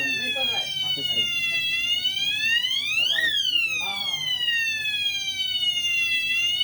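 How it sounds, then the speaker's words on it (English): A conventional fire alarm system sounds during testing, a loud electronic siren whose pitch sweeps up and back down in a repeating wail, with faint voices underneath. "Today's video is the installation of conventional fire alarm"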